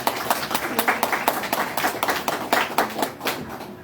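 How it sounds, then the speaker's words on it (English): Applause for candidates at a Pride candidate forum, a small audience giving distinct, fairly close handclaps in a quick uneven rhythm, individual claps clearly separable throughout. "we really appreciate the candidates who have come and shown up. And so another round of applause for them"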